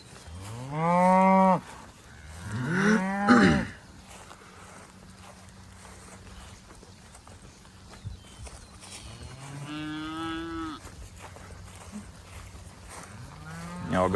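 Cattle grazing a cover crop moo loudly nearby, with two long lowing calls at the start and more around ten seconds in, over a quiet outdoor background.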